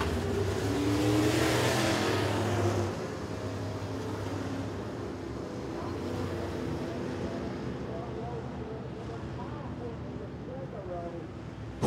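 Sportsman Division race cars on the Smoky Mountain Speedway drone past under caution, a loud engine roar fading to a steady distant rumble with voices over it.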